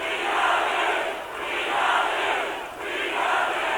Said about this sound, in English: That doesn't sound like a crowd that thinks this president lost.